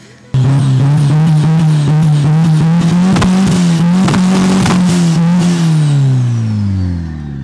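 A car with a large exhaust revs loudly with a deep, booming note at a track day, holding a throaty rumble before the revs drop and fade toward the end.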